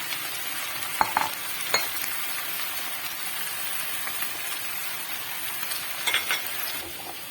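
Cauliflower, beans and potatoes sizzle steadily in a hot pan while a utensil scrapes and clinks now and then; no talking.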